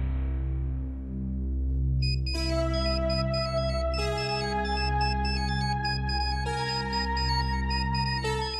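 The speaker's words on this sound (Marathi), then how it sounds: "मेघना देसाईंचा फोन आहे." A phone ringtone plays a repeating electronic melody at moderate volume, the tune looping in steady phrases roughly every two seconds, with no talking over it.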